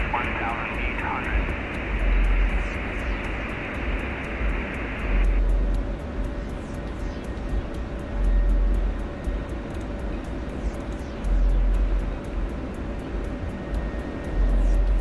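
An aircraft engine in the combat flight game DCS Digital Combat Simulator drones steadily with low rumbling swells throughout, while a voice talks over it and radio-like chatter comes and goes.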